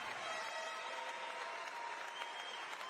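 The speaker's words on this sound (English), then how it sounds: "let's have a round of applause for them" Steady applause from an arena crowd at a Classic Physique bodybuilding final, sustained and even, with no talk above it.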